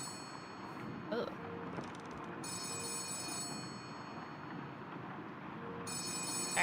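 A telephone rings in the video game Letter Lost, an electronic ring in short repeated bursts over a steady ambient music bed, with a voice briefly heard.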